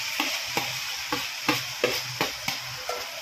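Ground masala frying in oil and ghee for a mixed vegetable dish: a continuous close sizzle with a regular rhythm of about eight scraping stirring strokes across the pan, no voices.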